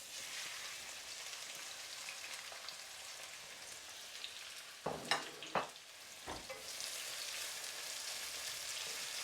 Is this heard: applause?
no